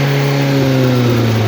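Russian piling machine, the 'Terminator', with its engine revving steadily at high speed, a loud, close drone with strong low harmonics running throughout without pause.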